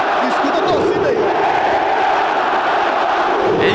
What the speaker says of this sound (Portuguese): Escuta a torcida aí.